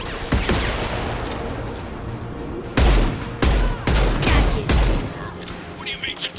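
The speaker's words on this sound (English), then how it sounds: "I love this rifle." Rifle gunfire in Mass Effect 2 cracks out in sharp bursts: an early couple of shots, then a rapid cluster of loud, punchy reports with booming low ends, set against a low background of combat ambience.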